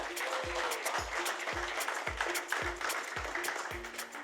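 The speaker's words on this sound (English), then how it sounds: "Can we have a huge round of applause for Navya?" Audience applause for Navya Naveli Nanda at a panel launch event, a steady wash of clapping running under a thumping musical beat that pulses about twice a second.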